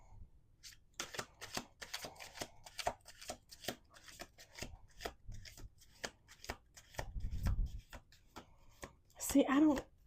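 Deck of cards being shuffled on a table, a rapid run of crisp riffling snaps and flicks in bursts, close and fairly quiet, ending with a soft rustle.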